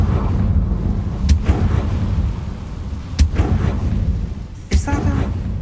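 Confringo spell blasts in Hogwarts Legacy: three sharp explosive bursts spaced a couple of seconds apart over a loud, rumbling game ambience.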